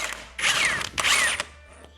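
A ratchet loosens a reverse-thread bolt on a 2024 Harley-Davidson Road Glide during clutch work, two quick close bursts of rapid clicking separated by a brief pause.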